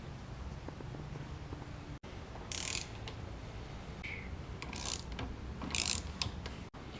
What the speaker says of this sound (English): the next step in the process is to take these 4 bolts off to be able to open up the hinge and get to the other bolts